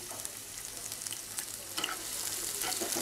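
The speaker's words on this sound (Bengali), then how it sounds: "এবার গরম তেলে দিয়ে দিচ্ছি আমি 3টি শুকনো মরিচ, দিয়ে দিচ্ছি 2টো মিডিয়াম সাইজের পেঁয়াজ কুচি।" Three dried red chilies and two medium onions, finely chopped, hit hot oil in a pan and fry with a steady crackling sizzle that grows a little louder toward the end, close and without any voice.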